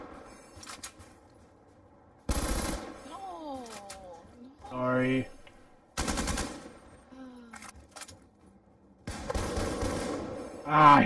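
Gunfire in a party video game, with several loud bursts of rapid machine-gun shots separated by quieter gaps, someone talking between and over the volleys amid other game effects.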